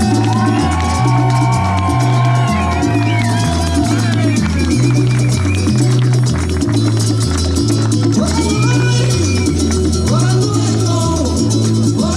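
Loud comedy club crowd cheering, whooping and clapping without a break, under a pulsing bass-heavy music beat that keeps a steady rhythm, with voices shouting in the mix.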